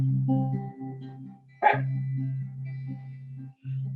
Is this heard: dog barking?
yes